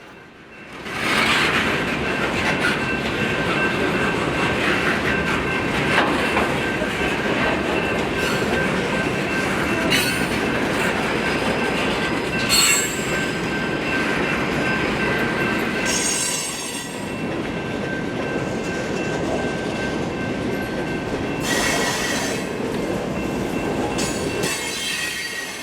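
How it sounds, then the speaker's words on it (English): A CSX freight train rolls on the former Georgia Railroad through Atlanta as it emerges from under the old Union Station platforms: a loud, steady rumble of rail cars with shrill wheel squeals rising and fading, and no voices. "we catch up to the train after it comes out from under the former Union Station platforms"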